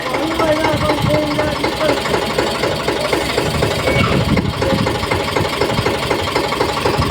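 A tractor engine runs steadily at close range, its rhythmic mid-low chugging continuous throughout, with faint voices in the background.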